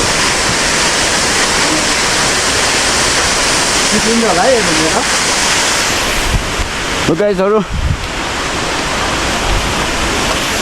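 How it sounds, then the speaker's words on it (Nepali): Mohoni waterfall in Chitlang roars as a steady, loud rush of falling water that fills the whole scene, with someone speaking briefly over it twice. "I love this waterfall very much."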